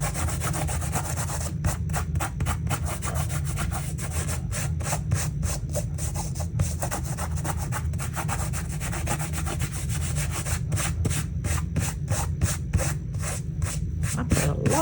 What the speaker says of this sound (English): So I'm just going to scrape this excess salt off.